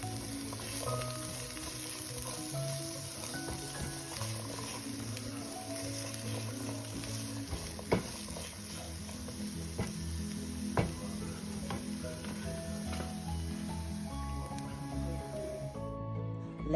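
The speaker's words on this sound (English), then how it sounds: "add in our onions and garlic and let that cook until it's tender" Onions and garlic sizzle steadily in a skillet for a tomato, okra, shrimp and sausage dish, a continuous frying crackle with a few sharper pops, over a faint tonal background.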